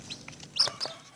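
A chicken raised by a family gives a few short, faint clucks in quick succession, soft and close with no talking.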